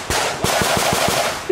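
Rifle gunfire at an indoor shooting range in Tampa, Florida: a rapid string of about seven loud, close shots in quick succession, ringing in the enclosed space.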